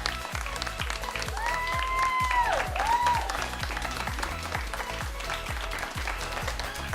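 A studio audience at a Temple University talk show applauds loudly and steadily, dense clapping filling the room with a few cheers and whoops rising over it, alongside a rhythmic musical beat.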